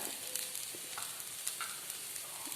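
Finely chopped carrot joins onions and green chillies sautéing in a pan for semiya veg pulao, a constant close sizzle with soft stirring scrapes and a few light taps.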